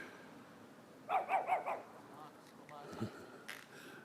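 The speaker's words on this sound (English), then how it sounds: "Neighborhood dog, he didn't like me talking." A neighborhood dog barks several times in a quick burst of three or four yips, fairly close but outdoors, with faint ambient noise and some movement afterward.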